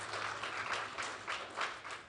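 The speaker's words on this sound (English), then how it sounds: "Clap hands for yourselves once again." Students clapping for themselves at a national reading competition, a faint, steady patter of applause from a crowd that swells slightly in waves over a couple of seconds.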